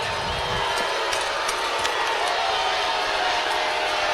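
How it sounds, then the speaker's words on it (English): Longview Lobo fans boo during a high school basketball game against Mansfield Timberview, a steady wash of crowd noise filling the gym throughout, with sneaker squeaks and scattered court sounds mixed in. "And the Lobo fans booing."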